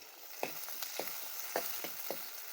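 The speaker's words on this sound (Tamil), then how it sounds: "நல்லா வெங்காயம் தக்காளியெல்லாம் நல்லா வதங்கட்டும்" Soft sizzling of onions and tomatoes sautéing in a pan for pea kurma, with a few quiet stirring scrapes at a gentle, uneven pace.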